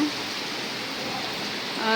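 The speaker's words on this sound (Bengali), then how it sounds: "প্রচণ্ড বাতাস বাতাসের সাথে বৃষ্টি ঠান্ডা আবহাওয়া" Steady rain driven by strong wind in cold weather, a continuous dense hiss of falling water without pauses or distinct drops, moderately loud from start to finish, with no talking.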